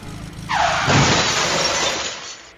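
A rusty van crashes in the horror game Five Nights with Froggy: a sudden loud shattering smash that holds as a dense, crunching roar for about a second and a half, then fades out.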